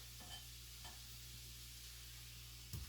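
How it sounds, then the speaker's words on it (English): Steak sizzling after being returned to a hot pan, a faint, even hiss that holds steady, ending in a brief clatter of utensil against the pan. "Now I'm going to add the steak back into this."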